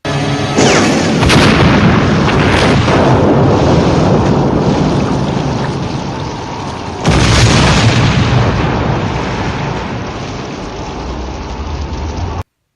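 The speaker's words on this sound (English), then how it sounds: "Fucking bazookas!" Bazooka fire and explosions from the film Alligator II roar out as loud, rumbling booms, with two big blasts rising and slowly fading into a long, churning wash of noise.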